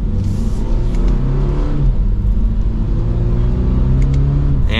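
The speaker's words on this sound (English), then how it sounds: "that's just a mild acceleration" A 2022 Toyota GR86 Premium accelerating gently, the engine note climbing steadily in pitch with a close, continuous rumble inside the cabin, then easing slightly near the end.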